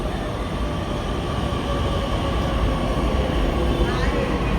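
A steady, loud rumble of a metro train arriving in Pune, with continuous low mechanical noise and no talking.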